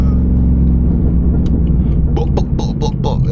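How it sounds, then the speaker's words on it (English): A Pontiac G8 GT engine rumbles loudly close by, with its pitch shifting as it drops a gear, all heard without any voices. "It's a cop downshift."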